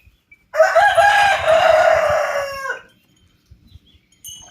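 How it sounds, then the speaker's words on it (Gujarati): A rooster on a farm gives one loud, close, drawn-out crow lasting about two seconds, followed by quiet with faint scuffling and small bird sounds. "4 કુકડા અહીં લઈ આવ્યા હતા"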